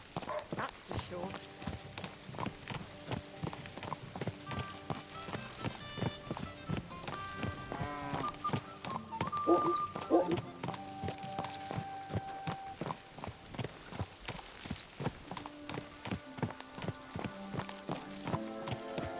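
Horse hooves clip-clopping at a steady walking rhythm in the medieval game Kingdom Come Deliverance 2, running throughout beneath a continuous musical score, with a horse whinny briefly rising in the middle.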